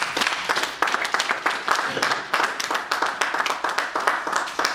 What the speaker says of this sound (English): Shall we give a clap of hand to mothers?